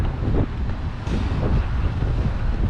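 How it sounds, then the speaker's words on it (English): Strong gusts blast a microphone outdoors, a loud rumbling roar that swells and dips without pause. "It's kind of windy today."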